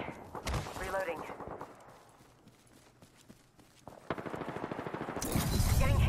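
Video game gunfire crackles in bursts, with rapid shots near the start and heavier, louder firing building toward the end, mixed with other in-game noise and some talking.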